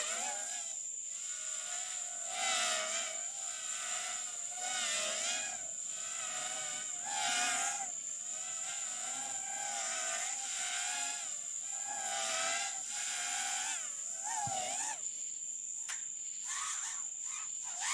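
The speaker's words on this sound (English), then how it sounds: "Let's use a drone to check the condition of the inside of the building." Drone flying to check inside a damaged building, a steady high buzzing whine with wavering pitch sweeps, moderately faint and continuous for the whole stretch, no talking.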